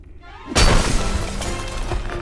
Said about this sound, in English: Time to shatter the barrier to Thoron's lair.